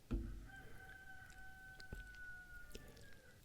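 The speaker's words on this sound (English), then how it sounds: "We have roosters here at the house, and they might invade the audio a little bit here" Roosters crowing at a house, faint and distant, with a long drawn-out crow carrying across a quiet background and a few soft knocks.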